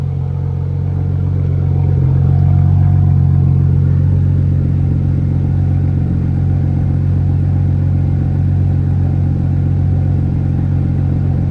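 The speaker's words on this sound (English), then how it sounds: "We got the Supra going, we got the diff breaking in." An MK4 Toyota Supra idles steadily while a newly installed 8.8 differential spins to break in, giving a loud, close, continuous low engine drone with a slight swell early on and no talking.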